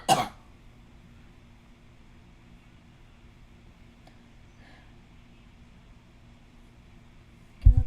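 A single harsh cough close to the microphone opens the moment, with another brief burst at the very end. Between them is a quiet steady room hum.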